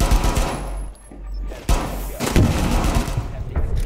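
Pistol gunshots in Rainbow Six Siege, several loud sharp cracks in quick succession with booming low thuds, close and punchy, mixed with game noise and voices talking.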